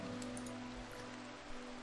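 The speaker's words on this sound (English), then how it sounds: "they're sleeping in the rain" Steady rain falling in the video game RimWorld, a constant even hiss of drops on surfaces with no talk over it.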